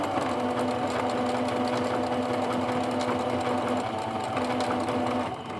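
A sewing machine runs steadily up close, stitching fabric flowers with back-and-forth fill-in stitching, its motor humming and needle chattering in a fast even rhythm with a brief pause near the end.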